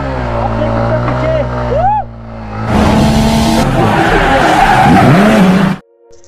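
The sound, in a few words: motorbike doing a burnout with tires skidding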